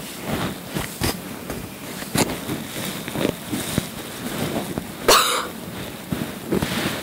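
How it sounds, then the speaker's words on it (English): Several short coughs and throat clearings break up a quiet room, with one sharper burst near the end. "Sorry if I cough."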